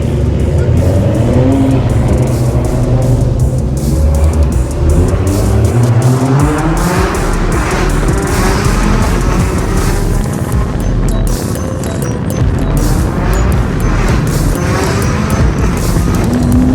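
Performance cars, including a Nissan GT-R with turbo work, driving on Tokyo streets: loud, close engines rev and accelerate through rising gear changes, with a continuous roar and road noise throughout.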